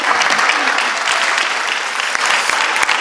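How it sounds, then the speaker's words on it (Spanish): An audience at a conference bursts into sustained applause, thick continuous clapping from many people at a steady level with a few sharper individual claps standing out near the end. "Fuerte el aplauso entonces"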